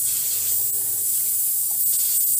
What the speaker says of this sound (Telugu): మిక్సీ పట్టుకున్నాను